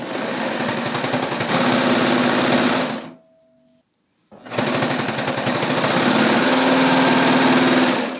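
A sewing machine sews a raglan sleeve seam in a loud, fast, continuous run. It stops briefly for about a second, then starts again at full speed close by.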